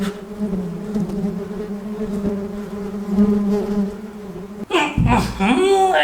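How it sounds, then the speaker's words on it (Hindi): A housefly buzzing close by indoors, a steady loud drone that holds for several seconds before a burst of other noise near the end. "यार तंग कर दिया इस मक्खी ने तो।"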